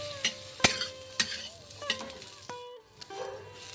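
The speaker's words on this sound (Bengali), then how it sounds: "পেঁপেটা দিয়ে দিচ্ছি পেঁপেটা দিয়ে একটু নাড়াচাড়া করে নেব" Cut papaya stirred in hot oil in a pan, several sharp scraping strokes of the spatula over a soft sizzle, close and clear, no voices.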